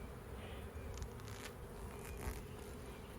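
Honey bees from a swarm trap buzz over their comb, a steady close droning hum with no break in it and nobody speaking.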